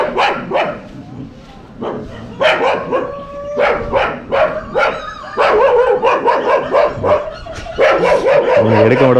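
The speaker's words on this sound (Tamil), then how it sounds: "ஐயா நாய் கத்த ஆரம்பிச்சிருச்சே" A dog barks repeatedly and close by at an old Chola-era Shiva temple in Thanjavur, giving loud, rapid yaps and whines while someone talks over the barking.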